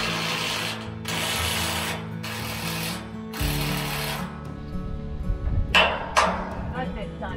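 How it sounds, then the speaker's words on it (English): Short bursts from an impact wrench fastening rebar at an off-grid home build, several rapid hammering runs of a few seconds each, then softer clanks and rattles, with voices talking in the background. "I'm gonna zap it with the impact wrench"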